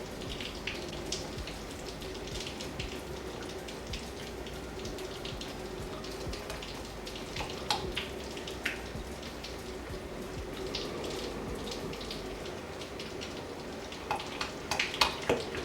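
Tap water runs steadily while turkey wings are rinsed in a kitchen sink, a soft continuous splashing with scattered droplet patters and a few sharper spatters near the end.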